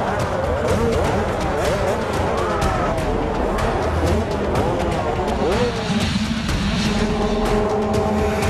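85cc motocross bikes at an FIM Junior Motocross World Championship race charge up the start straight, a dense pack of high-pitched two-stroke engines revving and shifting continuously, loud and close.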